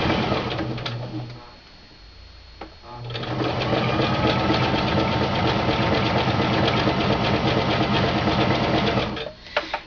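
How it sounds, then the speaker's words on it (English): A sewing machine zigzag-stitches a Christmas stocking, its motor whirring in a rapid, steady mechanical chatter that drops off briefly near the start, then runs continuously and close up. "we're going to go ahead and just zigzag around"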